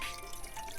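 Water is poured into a cooking pot for rice, making a brief steady splashing trickle, close and alone without talk.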